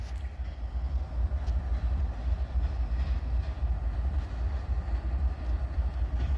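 A train rumbles past steadily in Abbeville, a deep continuous roar with faint rattling of cars and no voices.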